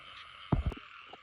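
Frogs croak at night during a frog-spotting outing, two or three short low croaks bunched close together and fairly near over a quiet background hum of insects.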